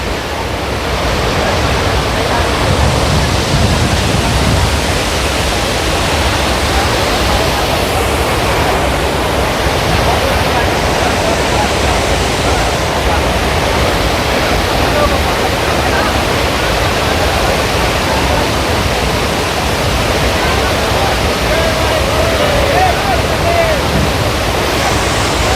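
The Athirappilly waterfall roars up close, a loud, constant broadband rush of crashing water that fills every moment without letting up.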